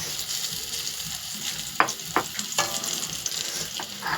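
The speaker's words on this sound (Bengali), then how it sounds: "জিনিসটা একটু পোড়া পোড়া লাগছে বলে আমি একটু নেড়ে দিচ্ছি" Meat frying in a pan, slightly charred, gets stirred: a steady close sizzle with a few sharp scrapes and knocks of the utensil against the pan, and no talking.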